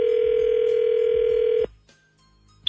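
A steady telephone dial tone runs for about a second and a half while a phone number is being called, then cuts off abruptly to a quiet line, followed by a brief high beep.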